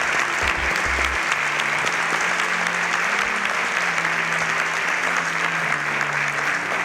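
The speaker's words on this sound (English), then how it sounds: "A round of applause." A large crowd applauds loudly and steadily throughout, a dense wash of clapping that never lets up.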